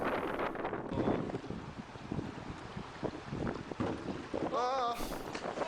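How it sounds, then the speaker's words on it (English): A canoe rigged for sailing moves on the Missinaibi River in wind, with heavy wind buffeting on the microphone and water washing around the hull. A brief squeaky whine comes near the end. "It's our first attempt at sailing on the Missinaibi."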